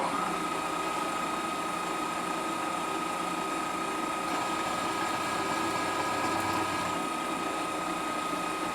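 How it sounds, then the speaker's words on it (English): A milling machine running a 3/4 inch end mill at low speed: a steady mechanical drone with a sustained whine, constant and unbroken throughout, moderately close. "Next up is a 3/4 inch end mill. And we're going to go pretty low speed with this."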